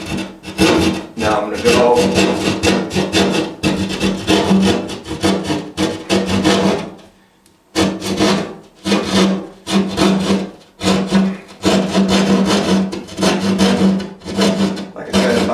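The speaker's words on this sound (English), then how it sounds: "you want to be careful with the jab saw, especially with the panel sitting like this" A jab saw rasps through a drywall ceiling panel in loud, rapid back-and-forth strokes that pause briefly midway, with a few words spoken near the start.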